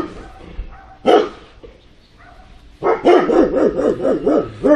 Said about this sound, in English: Damn, she's got some big dogs.